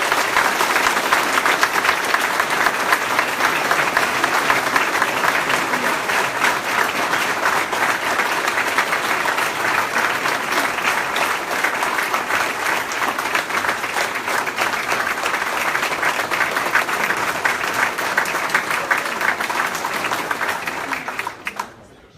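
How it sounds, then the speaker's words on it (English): Sustained applause from a large audience at a police academy graduation ceremony honoring the chief of police, dense and steady clapping for about twenty seconds before tapering off abruptly. "Please join me in a round of applause for Sebastopol Chief of Police, Jeff Weaver."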